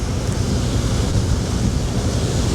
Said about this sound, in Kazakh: Үсті вообще жел екен.